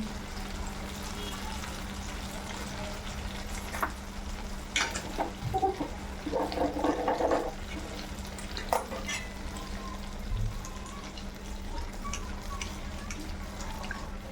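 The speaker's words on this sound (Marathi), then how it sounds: "आपल्याला असे गोल्डन रंगापर्यंत येईपर्यंतच तळायचे" Potato gulab jamun fry gently in oil that has cooled somewhat, a soft, steady bubbling sizzle with occasional stirring clinks and scrapes, and a faint voice now and then.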